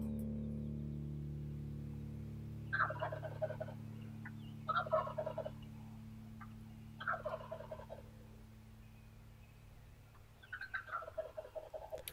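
Wild turkeys gobble near a roost area during turkey season, four separate rattling gobble bursts at moderate distance over a steady low hum, with no voices.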